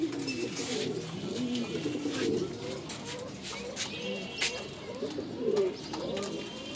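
Pigeons at a pigeon farm in Mirpur coo repeatedly in low, throaty rolling calls, fairly close, with some faint background noise.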